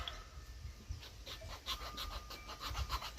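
A hand file rasps a groove into a wooden stick being shaped into a single-band slingshot, giving repeated scraping strokes at close range over a low background rumble.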